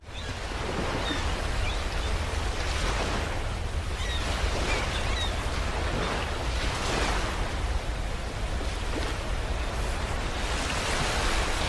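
Continuous roar of sea surf on a beach at Bashbaria, Sitakunda, swelling and easing as waves break, with no voices heard.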